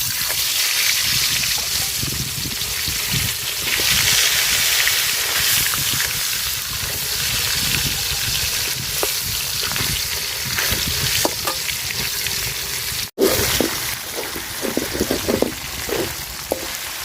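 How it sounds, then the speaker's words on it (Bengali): Fish heads rubbed with turmeric and salt fry in oil in a pot, a steady, close, dense sizzle with bursts of crackle and stirring that runs the whole time and briefly cuts out, then resumes louder. "তেল দিয়ে দিলাম মাছের মাথাগুলো আমি হালকা ভাজবো"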